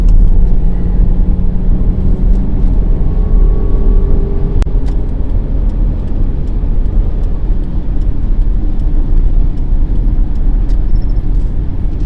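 A car engine runs steadily while driving around town in light traffic, a continuous low rumble with road noise throughout, no talk over it.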